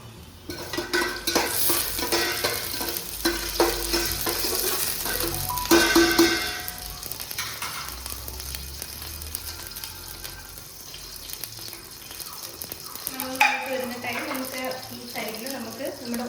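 Cumin seeds, star anise and cinnamon crackle and sizzle in hot coconut oil while a spoon stirs and scrapes the pan, with brief louder bursts of activity and voices talking over it.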